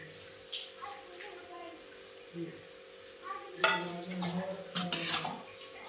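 Cabbage sabzi being stirred in a pan, with faint sizzling, soft scraping and a few metallic clinks of a spoon, growing busier toward the end, with some talk in the background.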